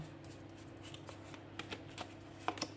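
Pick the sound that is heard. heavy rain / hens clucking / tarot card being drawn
tarot card being drawn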